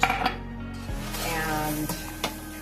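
A cornstarch cream mixture is worked in a pot with a utensil for cream pie filling, giving a few quick clinks against the metal early on and then quieter scraping and a faint tap.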